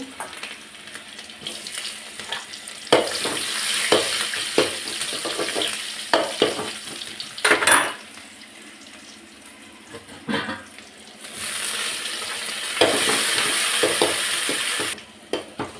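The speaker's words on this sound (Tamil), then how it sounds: "வெங்காயம் போட்டு கடுகு உளுந்தம்பருப்பு போட்டு தாளிச்சிடலாம்." Onions, mustard seeds and urad dal tempering in hot oil for sambar, crackling and sizzling, with stirring clatter and bursts of louder frying, close up and steady.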